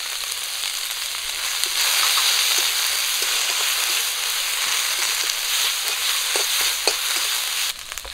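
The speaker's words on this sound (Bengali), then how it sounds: "মশলাটা একটু ভেজে নিয়েছি" A paste of ground ginger and cumin with chili powder fries in oil in a pan, giving a dense, even sizzle close by, with occasional soft clicks of stirring and no talk.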